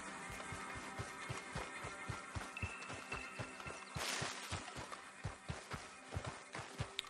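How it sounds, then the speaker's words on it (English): Horse hooves in the Red Dead Redemption 2 video game pound in a steady, fast galloping rhythm, each strike crisp and evenly spaced, with a brief burst of rustling noise midway. "Right, there's some horses there."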